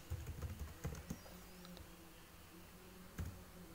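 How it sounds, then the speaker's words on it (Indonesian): Program code is typed on a computer keyboard in quick, soft clicking bursts, close and fairly quiet, with a pause before a last few keystrokes near the end. No one speaks. "saya bisa mengetikkan contoh kode program ya"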